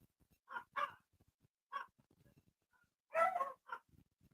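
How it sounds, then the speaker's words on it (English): Dogs bark in a film soundtrack, a few sharp, separate barks and yips spread over several seconds, moderately close, with quiet gaps between them and no talking over them. "And now the dogs are barking."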